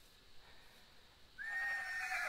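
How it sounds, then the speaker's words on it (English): A horse in the Minecraft Hexxit modpack lets out a bright, rising whinny after a quiet stretch, clear and fairly close, heard alone. "There's a horsey somewhere."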